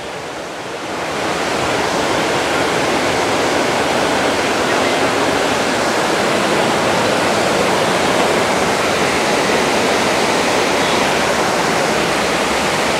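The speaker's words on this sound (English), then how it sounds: "The waterfall." Camly Waterfall in Da Lat, Vietnam, roars as a loud, steady wash of falling water that swells up within the first second and then holds constant and close, with no voices over it.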